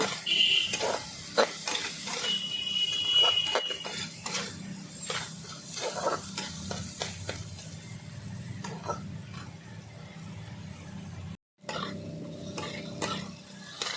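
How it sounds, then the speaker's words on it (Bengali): Spice paste with turmeric and salt frying in a pan while being stirred, with repeated scraping and clinking of a spoon over a soft sizzle, a brief silent break near the end, and then quieter hissing. "লবণ দেব। একই সঙ্গে মশলা কষিয়ে নেব।"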